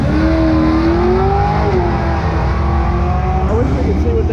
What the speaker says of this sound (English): All the cars lining up to drag race.